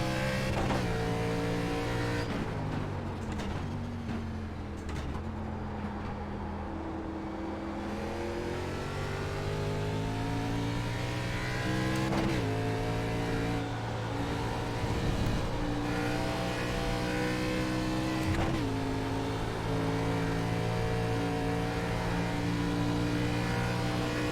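An ARCA race car in iRacing at Watkins Glen: a loud engine note rises steadily through the gears, with sharp drops at each shift followed by fresh climbs, exiting a corner with no talking.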